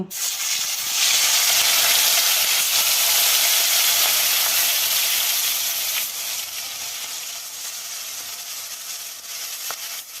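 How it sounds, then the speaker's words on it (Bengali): Fish frying in hot oil in a home kitchen for a Bengali fish curry, a loud, steady sizzling hiss that starts abruptly and continues close by for about ten seconds, easing slightly toward the end, with no speech. "মাছটা আমি লাল করে ভেজে নিব।"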